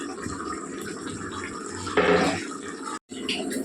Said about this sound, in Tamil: ஒன்றரை செம்பு தண்ணி ஊற்றிருக்கிறாங்க இதில்